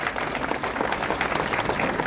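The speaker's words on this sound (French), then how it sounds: "on peut les applaudir" Short burst of applause from a crowd at an outdoor footbridge inauguration ceremony, a dense, even patter of many hands clapping together.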